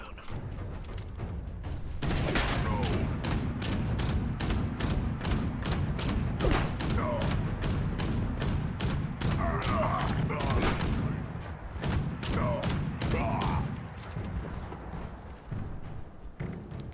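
Rapid gunfire in a close-range Fallout 76 firefight, with dense overlapping shots and thuds hammering steadily for most of the stretch, loud and near, with occasional speech mixed in.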